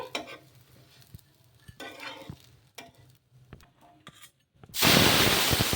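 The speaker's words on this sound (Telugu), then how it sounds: "ఇలా ఇంకో సైడ్ కూడా కాల్చుకుందాము ఇలా ఇంకా రెండు వైపులా కూడా బాగా కాల్చుకొని తీసేసుకోవడమే" Rava dosa batter on a hot pan crackles softly at first with light scraping and stirring touches, then bursts into a loud, steady hiss of frying near the end.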